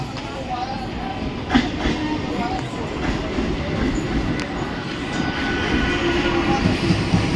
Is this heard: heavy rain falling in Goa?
no